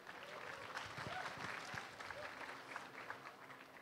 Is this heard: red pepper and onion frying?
no